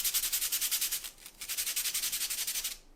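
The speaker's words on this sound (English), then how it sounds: "I've just got my sanding block that I'm going to start sanding my charcoal on" A charcoal stick rubs back and forth on a sanding block in quick, even strokes, a close, soft scratchy rasp that pauses briefly midway before resuming, with no voices.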